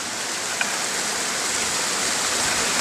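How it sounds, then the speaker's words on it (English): Water runs through a crack between two rocks, producing a steady broadband rushing hiss like a small cascade, close and continuous, with no voices. "Water flows right in between this crack and these two rocks."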